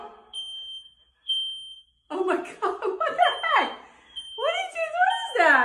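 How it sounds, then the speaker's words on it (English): A household smoke alarm sounds a piercing high beep that starts and stops, set off by a smoking toilet, while excited voices talk loudly over it. "Why is the alarm going off?"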